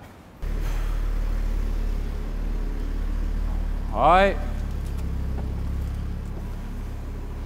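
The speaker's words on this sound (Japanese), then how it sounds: "このマフラー音聞いてみますか。" An Audi RS3 Sportback exhaust idles with a deep, steady low rumble that starts abruptly, then swells briefly in a short blip of revving before settling back to idle, with people talking over it.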